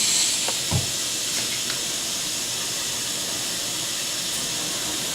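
A Semitool 870-S spin rinse dryer runs with a steady broad hiss and rushing whir, with a few faint clicks early on, constant and close.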